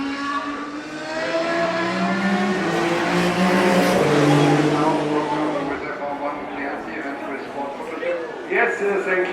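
Ferrari race cars, including the 499P Modificata and historic Formula 1 cars from 2012 and 2013, running at the Nürburgring. Loud, sustained engine howl rises and falls as the cars pass, with voices mixed in.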